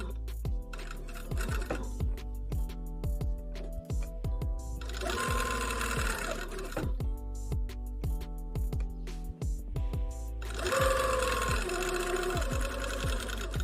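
A sewing machine stitches fabric for a scrunchie in two longer runs of fast, steady mechanical whirring, with quieter pauses and regular ticking clicks between them, close up and with no talking.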